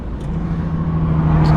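A Nissan G35's VQ35 V6 runs with a steady, moderately loud low drone and a faint hum on top, heard alone at close range.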